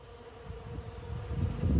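Native Jandaíra bees buzz in a close, steady drone that grows louder toward the end.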